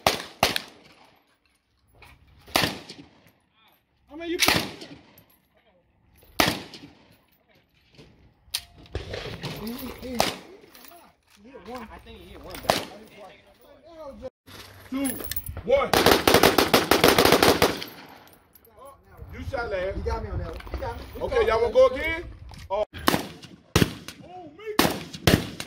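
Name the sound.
AK rifle gunfire at a shooting range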